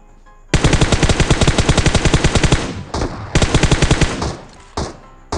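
Rapid automatic AKM rifle fire in PUBG Mobile, two long bursts with a short gap, followed by a couple of brief shots; loud and close, with no talking.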